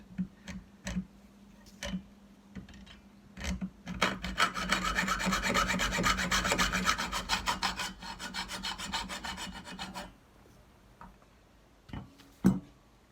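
A hand saw rasps rapidly back and forth through a plastic drawer piece clamped to a wooden workbench, loud for several seconds, bracketed by sparse knocks and clicks.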